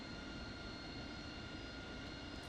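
Aircraft engine of a KC-130 tanker at an airfield, a loud, steady, unbroken roar filling the whole stretch with no talk over it.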